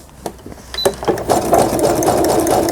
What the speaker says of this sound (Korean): 3번은 이제 지그잭 바느질이 되겠습니다.